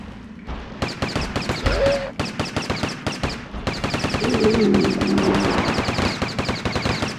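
Rapid gunfire in the PS1 game The Lost World: Jurassic Park, a steady, evenly spaced stream of punchy shots fired in quick succession over several seconds, with brief electronic tones layered in.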